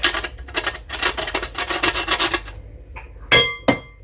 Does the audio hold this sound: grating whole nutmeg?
yes